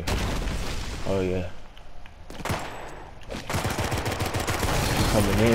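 Gunfire in the video game Drawn to Death comes in rapid bursts and booms, loud and close, mixed with a player's voice talking over the action.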